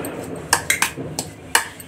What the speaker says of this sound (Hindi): अच्छे से मिक्स कर लेना है।